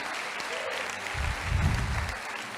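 A church congregation claps together during a sermon, a dense burst of applause rising midway and continuing steadily to the end.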